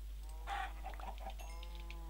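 Chickens in the Minecraft video game give a few short clucks over a low steady background hum, faint and close-sounding, with no talk.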